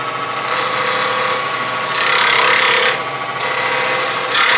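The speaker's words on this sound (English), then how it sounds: "I'm using a bowl gouge right now." A bowl gouge cuts a laminated wood bowl spinning on a lathe, a loud continuous rasping scrape that briefly eases near the end before resuming.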